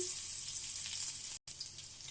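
Green chillies frying in a little oil in a pan, a steady close sizzle with a brief break of silence partway through, no voices.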